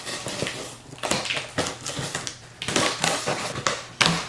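Unboxing scissors snip and tear at the packaging of a Satchel & Page leather bomber jacket, giving a close, loud series of irregular cuts, crinkles and plastic rustles.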